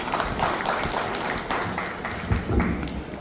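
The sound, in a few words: applause at a martial arts association inauguration ceremony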